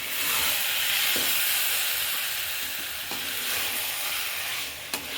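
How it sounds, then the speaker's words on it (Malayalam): Avial being stirred in a pan with curry leaves: steady frying sizzle throughout with a few soft scraping stir strokes, close and fairly loud, no voices. "കറിവേപ്പില ഇട്ട് ഒന്നുകൂടെ നമുക്കൊന്ന് ഇളക്കി കൊടുക്കാം."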